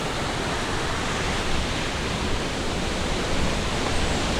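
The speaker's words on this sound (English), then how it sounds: "narrow gorges with the water running through them." Water rushes through a narrow gorge on the Ingleton waterfall trail, a loud, steady, broadband roar that fills the scene without pause.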